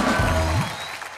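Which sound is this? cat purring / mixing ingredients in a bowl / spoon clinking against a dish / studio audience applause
studio audience applause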